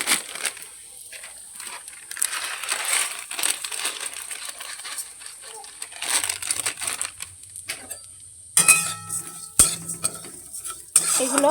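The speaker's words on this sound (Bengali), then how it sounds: "তো আমি সিমইগুলো না ঘি দিয়ে ভেজে নিই" Thin vermicelli frying in a little ghee in a wok, stirred with a metal utensil: steady soft sizzle with repeated scraping and clinking against the pan, growing busier with sharper clatters toward the end.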